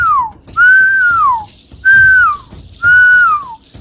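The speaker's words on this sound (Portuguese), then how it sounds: "Pondo-se a assobiar" Four loud, clear whistled notes, each a sustained tone gliding downward at the end, separated by short pauses.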